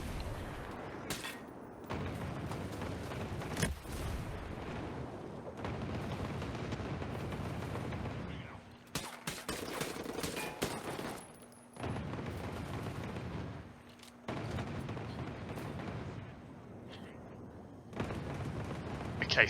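A turret in Ghost Recon Breakpoint fires repeated heavy bursts that come in loud, blocky volleys separated by short pauses, while players talk over the shooting.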